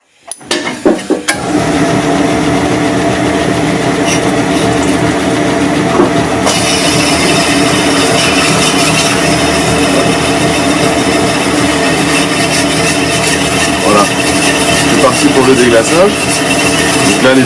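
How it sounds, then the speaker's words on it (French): An engine cylinder is honed with a stone moved back and forth to cut a cross-hatch pattern, giving a continuous, loud abrasive whirring that starts after a second and runs under steady talk. "Moi je fais des allers-retours pour générer ce qu'on appelle les traits croisés à l'intérieur, jusqu'à ce qu'on obtienne un état de surface mat"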